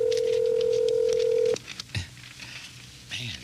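A telephone line is dialed: a steady tone holds for about a second and a half, then cuts off, followed by a few brief clicks and faint line noise.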